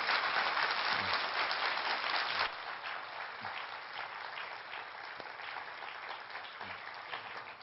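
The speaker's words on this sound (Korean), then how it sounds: "우리 조대식 대사님 다시 한번 박수를 부탁드립니다" An audience applauds at a Korean workplace mission conference talk concert, honoring Ambassador Cho Dae-sik: a sustained wash of clapping, louder for the first couple of seconds and then settling to a steady, slightly softer level.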